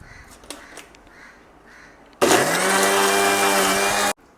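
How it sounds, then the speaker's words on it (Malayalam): A kitchen mixer grinder whirs loud and close for about two seconds as it grinds ingredients for homemade kajal, after crows caw nearby. "മിക്സിൽ അരയ്ക്കാൻ പോകണം ഇത് മിക്സി ചാറെടുക്കണം"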